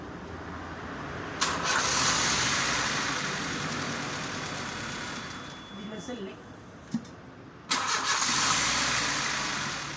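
A Honda Civic engine cranks at length and struggles to start despite a new battery, a long loud grinding whir that cuts out and resumes, with brief breaks and clicks between attempts, close by.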